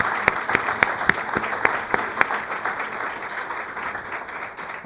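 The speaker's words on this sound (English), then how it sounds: "let's give a great round of applause to all our panelists doing an outstanding job." Town hall audience at a medical center applauds the panelists, a dense wash of many hands with a few sharp louder claps standing out, continuing steadily throughout.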